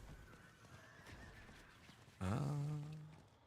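Horse neighing in the video game Diablo 4, a single loud whinny that rises abruptly and fades out over a second, above a low game ambience.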